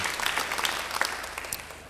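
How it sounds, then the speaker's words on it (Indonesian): A church congregation applauds, a soft, distant wash of many hands clapping that tapers away over a couple of seconds. "Beri tepuk tangan yang baik buat dia."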